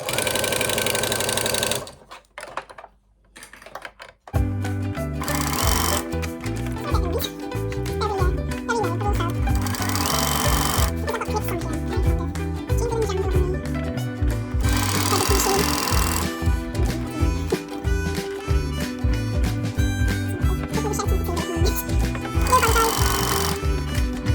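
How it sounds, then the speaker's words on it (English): A sewing machine stitches around the edge of a zipped project bag, running in loud, steady bursts of rapid mechanical clatter with short pauses between runs, close up and without talk. "I am just going to stitch all the way around one side, turn it around, and then stitch all the way around the other side"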